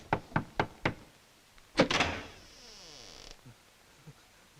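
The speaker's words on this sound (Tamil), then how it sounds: "எவனோ கதவு தட்டுறான், போய் பார்." Four sharp knocks on a door in a movie scene, evenly spaced and close, followed by a louder bang and a lingering rattle or creak that fades into quiet.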